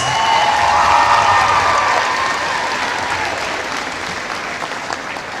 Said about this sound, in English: Please give all these young ladies and their escorts a big round of applause.